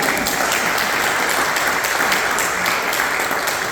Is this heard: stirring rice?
no